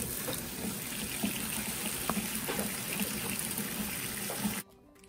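Running tap water pours steadily into a sink while fenugreek leaves are washed, a dense close splashing wash that cuts off abruptly just before the end.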